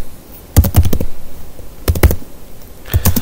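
Typing a hostnamectl command on a computer keyboard in Ubuntu 22.04, with three quick bursts of close, crisp keystrokes separated by short pauses.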